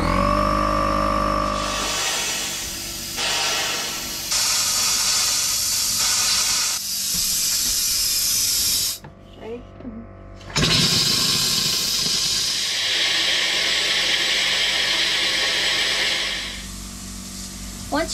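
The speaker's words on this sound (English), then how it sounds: "we're going to turn on the compressor and go inside and open up the faucets" Hissing rush of compressed air pushed through an RV's water lines and out of opened faucets while winterizing, a loud steady spray with sputtering bursts, a brief near-silent gap midway, then steady blowing again.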